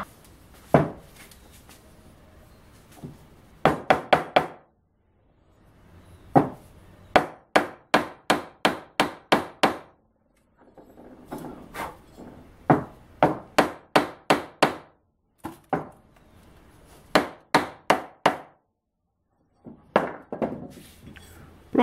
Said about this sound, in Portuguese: botar uma madeirinha, vir com o martelo e bater até ela entrar